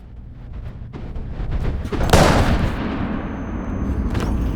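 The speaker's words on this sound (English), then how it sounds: "adding more effect to the moment the gun is fired" Gunshot effect in a cinematic film scene after a moment of silence, a single heavy boom swelling from a low rumble and ringing out loudly before a sustained roar.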